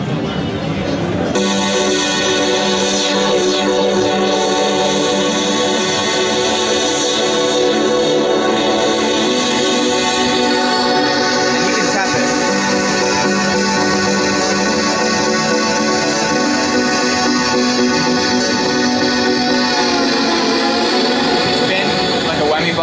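A MISA Digital Kitara USB MIDI guitar synth plays a sustained, dense drone with harmonic layers whose brightness shifts and sweeps gradually as the filter cutoff and resonance change, playing alone and continuously.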